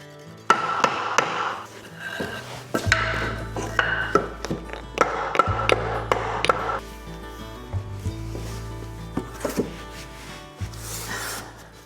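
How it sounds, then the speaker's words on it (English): A hammer knocks on a block to tap insulated subfloor panels into place over a concrete garage floor, giving scattered sharp knocks and rubbing scrapes with low rumbling between them, fairly close and with no talking. "I'm gonna grab a block and a hammer too, so that I can tap them into place."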